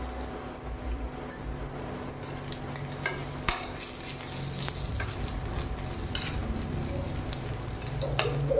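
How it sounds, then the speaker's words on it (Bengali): Onions frying in a pan until deep red, a continuous close sizzle with occasional scraping stirs and spoon taps, growing slightly louder toward the end, no voices. "পেঁয়াজটা লাল লাল করে ভেজে নেবো"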